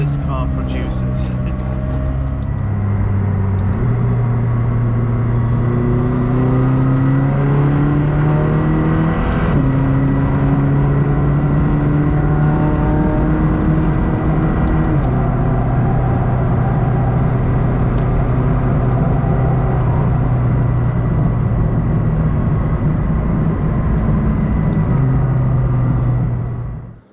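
McLaren 620R supercar engine droning steadily on a drive home, with rising and falling gear tones as it accelerates and shifts, loud and continuous throughout with occasional voices underneath.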